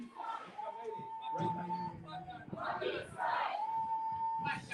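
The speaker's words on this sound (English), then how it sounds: "hear the MayDay supporters cheering the background" Cricket supporters cheer in the background at a George Headley Cup final, a distant crowd roar swelling and fading beneath a commentator's steady talk.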